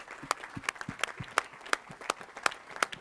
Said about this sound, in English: So little round of applause for these